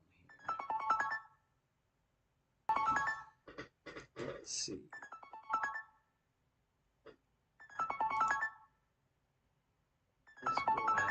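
A phone ringtone from an unknown caller repeats in distinct melodic bursts with pauses between them, while someone talks briefly in the gaps.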